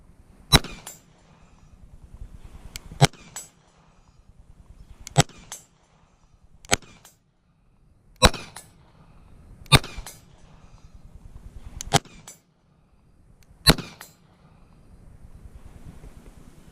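Single pistol shots from a CZ Shadow 2 at a man-sized target about 50 yards away outdoors. Eight sharp cracks come spaced a second or two apart over wind noise.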